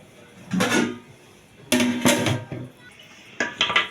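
A metal lid goes onto a pot of biryani with loud close clanks and rattles in bursts, then quiet stretches between them.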